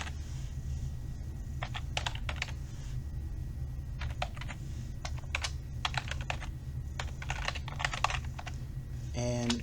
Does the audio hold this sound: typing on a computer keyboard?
yes